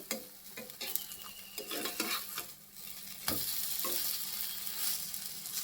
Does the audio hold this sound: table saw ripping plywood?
no